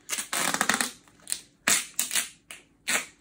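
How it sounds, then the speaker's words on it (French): Adhesive tape being pulled and stretched gives several sharp, crackling rips of uneven length with short pauses between them, close and clear with no talking. "Mais toujours avoir l'intention de bien tendre le scotch"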